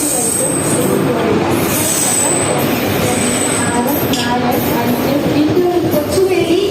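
Parasuram Express train at an Indian railway station on its Kanyakumari to Mangaluru run, loud wheels grinding and squealing on the rails with rolling rumble throughout, while a public address announcement plays over it.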